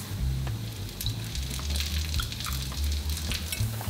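Mustard and cumin seeds frying in hot ghee, a dense close crackle and sizzle with scattered pops and a low hum beneath, continuous throughout.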